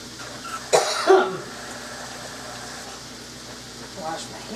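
A couple of close, harsh coughs early on, then quiet room noise with a faint rustle later.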